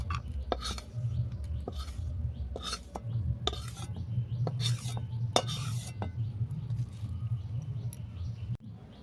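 A spoon stirs dry-roasting gram flour in a pan, making soft, repeated scraping strokes at an uneven pace over a low, steady hum, fairly quiet and close.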